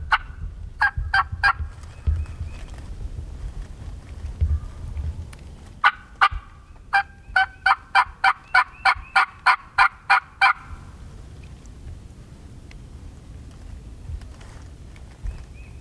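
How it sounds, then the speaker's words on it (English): A wild turkey gobbles repeatedly in Missouri public-land woods, loud and fairly close, with sharp rapid bursts clustered early and then a long steady run of evenly spaced calls before the woods fall quiet. "Just gobble right there."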